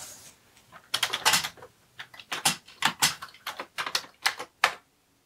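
Keystrokes on a Commodore computer keyboard with a speech module attached, an irregular run of about a dozen close, sharp clacks after a quiet start, with no talking.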